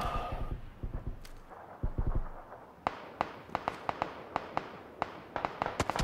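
Video game gunfire aimed at a building's second floor: a string of sharp, separate shots in irregular bursts, some fast doublets and some spaced out, fairly loud over faint low background noise with no talking.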